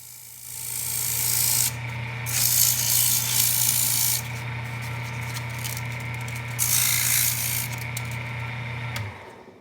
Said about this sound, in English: he's just cleaning it up now with the sandpaper